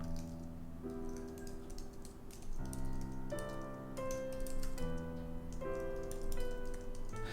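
Steady keystrokes on a computer keyboard while writing Dart programming code, the clicks soft and continuous beneath a constant background of sustained tonal music.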